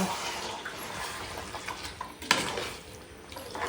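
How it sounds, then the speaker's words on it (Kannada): Water splashes and trickles into a pan of chicken curry masala, with a faint clink of a utensil against the pot partway through. "ಅದೇ ಮಸಾಲೆಗೆ ನೀರು ಹಾಕಿ ಸ್ವಲ್ಪ ನೀರು ಹಾಕುವ"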